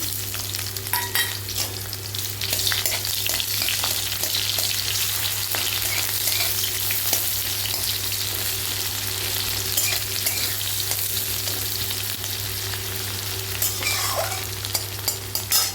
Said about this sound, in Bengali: এরপরে ফোড়নে দিচ্ছি জিরে, শুকনো লঙ্কা, তেজপাতা, লং, এলাচ, দারচিনি, পেঁয়াজ কুচোনো